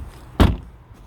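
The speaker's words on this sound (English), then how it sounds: "the window does come down a little bit when you open the door" Door of a BMW iX xDrive40 M Sport opening, a single short dull thud with a brief release, close and clear against quiet surroundings.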